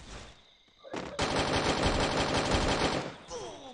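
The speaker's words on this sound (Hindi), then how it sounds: "आवाज बड़ी अच्छी है गन की।" Rapid automatic gunfire in the Free Fire video game, a dense sustained burst of about two seconds preceded by a few single shots, loud and continuous, with faint game sounds around it.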